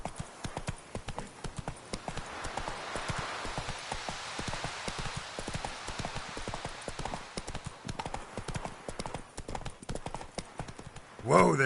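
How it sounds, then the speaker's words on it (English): Horse galloping through rain in The Witcher 3, rapid clip-clop hoofbeats pounding steadily throughout over hissing rainfall, with a burst of sound at the very end. "Whoa there, Roach. That's it, Roach. Hey-ya"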